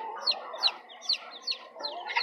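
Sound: chickens clucking in their cage

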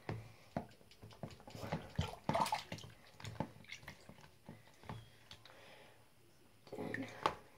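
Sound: rinsing baby dolls in bath water

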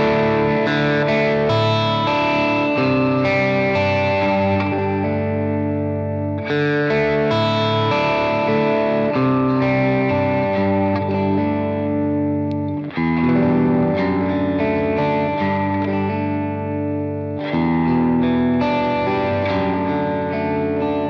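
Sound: electric guitar through Great Eastern FX Design a Drive pedal

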